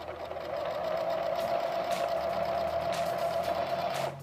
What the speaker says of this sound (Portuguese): E aí nós vamos costurar.